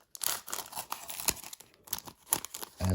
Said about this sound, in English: As we open the last portion of this rack pack.